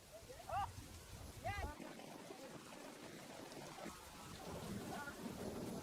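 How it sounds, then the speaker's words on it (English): Steady heavy rain pours down with low thunder rumbling in the background, and a voice briefly speaks over it near the start. "it rains in torrents for a month"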